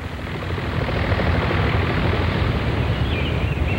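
Helicopters arriving at dawn over icy floodwaters during a disaster rescue, their engines and rotors a steady, broad roar that swells slightly and holds loud and continuous without any talk.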